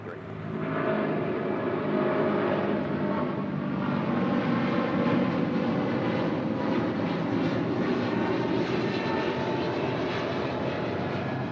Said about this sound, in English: United Airlines flight 1158 in this 777-200